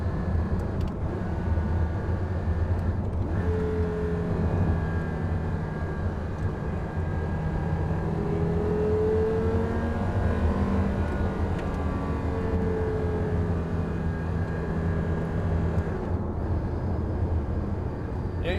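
Porsche Carrera GT engine with stock exhaust, a steady droning V10 tone with shifting pitch held at length, heard close and continuous with no clear speech over it.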